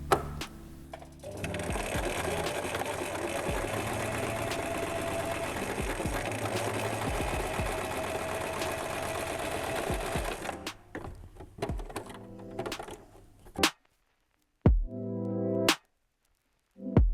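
A sewing machine runs steadily for about ten seconds, stitching a second seam on the wrong side of fabric, then slows into a few short separate bursts with silent gaps, loud and close.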